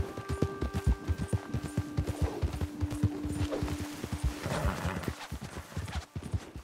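A horse gallops in Red Dead Redemption 2 Online, its close hoofbeats pounding in a rapid steady rhythm over low game tones, easing off toward the end with a hint of neighing.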